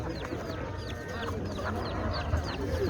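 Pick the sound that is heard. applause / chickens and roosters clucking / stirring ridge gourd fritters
chickens and roosters clucking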